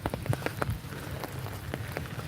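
Rain falling outdoors in windy, boggy open ground, a steady patter with sharp individual drops striking close by and no talk.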